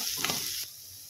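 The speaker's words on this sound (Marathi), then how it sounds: "छान आपल्याला आता लालसर होईपर्यंत भाजून घ्यायचं आहे लसूण" Garlic sizzling in a hot pan while being fried until reddish for a spiny gourd (kartule) vegetable dish, a short close hiss with a stir that cuts off partway through.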